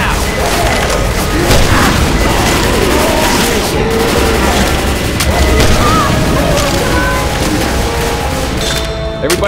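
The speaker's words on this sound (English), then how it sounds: "Pipe bomb out!" Pipe bomb going off in Left 4 Dead 2 amid loud continuous gunfire and booming blasts, a dense, harsh battle roar with voices calling out underneath.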